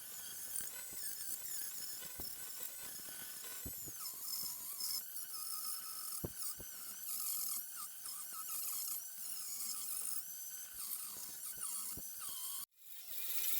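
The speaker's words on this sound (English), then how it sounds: "I'm grinding wood with a wood carving disc mounted on an angle grinder" Angle grinder fitted with a wood carving disc grinding into a firewood root being carved into a bowl, a steady high whining squeal with shifting pitch as the disc bites, cutting off abruptly near the end.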